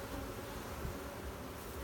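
A steady, dense buzzing of many honey bees close by at an open hive box, continuous and unbroken with no voices.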